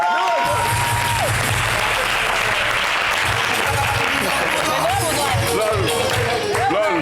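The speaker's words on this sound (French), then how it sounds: "On applaudit pour Abiola" A studio audience on a variety talk show claps for a guest, a loud continuous wash of applause with crowd noise and voices rising over it.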